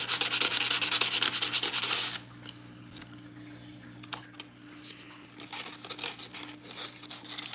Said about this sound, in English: I'm just going to try to gently sand these edges of this down.